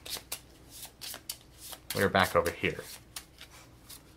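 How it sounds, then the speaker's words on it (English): Playing cards for The 7th Continent board game are shuffled in a brisk riffling burst between soft taps and handling noises, with people talking over the table. "So these are going to shuffle back in."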